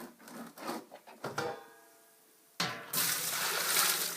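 Freshly pressed grape must from a 2014 home vintage is poured into a fermenting container. A few soft knocks and handling clunks come first, then a sudden loud, splashy rush of liquid runs steadily to the end.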